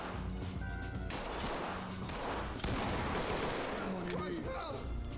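Gunfire in the tactical shooter Ready or Not, loud, dense bursts of shots and crackling impacts filling the whole stretch, with a voice speaking briefly in the middle.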